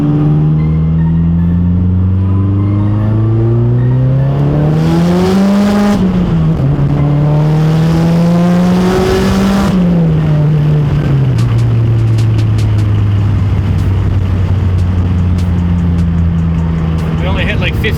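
Turbocharged Mazdaspeed 3 with a BNR S5 turbo pulling hard in second gear, its engine note climbing loudly and steadily with rising revs, briefly dipping around a shift before climbing again, heard from inside the car.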